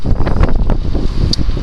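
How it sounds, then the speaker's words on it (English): Strong, cold wind blowing outdoors on a street, loud gusty buffeting rumble close on the microphone, continuous throughout with no speech. "it's absolutely windy today"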